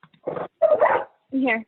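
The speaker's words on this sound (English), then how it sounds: "sorry, that's my dog" A pet dog at home gives two or three short yips and barks in quick succession, close and moderately loud, with a brief spoken word just before.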